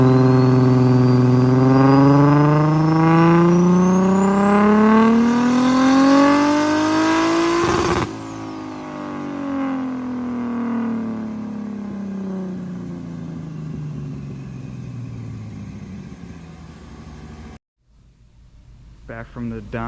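A Nissan S13 240SX with a rear-mounted radiator makes a loud full-throttle pull on a dyno. Engine pitch climbs steadily for several seconds, cuts sharply and winds down, then drops to quieter idle rumble and near silence.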